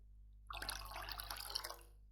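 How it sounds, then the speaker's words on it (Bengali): Water trickles and splashes softly onto flowers in a small garden, a quiet watering lasting just over a second with faint dripping and a low background hum. "এবার এই ফুলে জল দিই"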